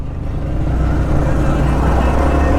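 A Yamaha MT-15 motorcycle ridden on a rough off-road trail in Munnar, its engine droning loudly and steadily up close with wind rumble, no talk.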